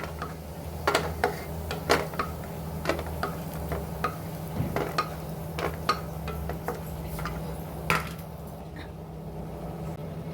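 Cashew nuts frying in ghee in a pan, giving a steady soft sizzle broken by scattered sharp crackles and pops, with occasional stirring clicks close up and no voices.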